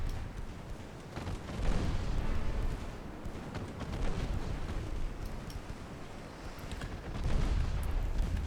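Rumbling explosions and booming impacts from a naval warship battle game, with torpedo hits among dense continuous low roar and a few louder surges.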